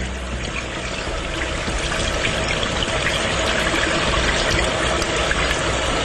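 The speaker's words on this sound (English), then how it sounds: "as you let the water pour off, I'm trying to get it to the point where the water is relatively clear that's pouring off of it." Rinse water pours steadily off rice being washed for a Tiger rice cooker, a continuous close splashing trickle with no voices.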